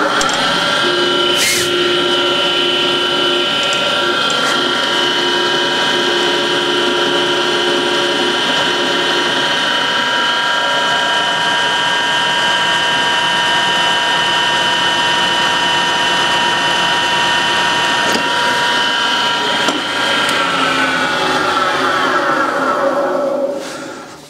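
A drill bores into metal during a test of a freshly sharpened drill bit, giving a steady, loud whine with grinding and ratcheting mechanical texture that holds for over twenty seconds before winding down at the end.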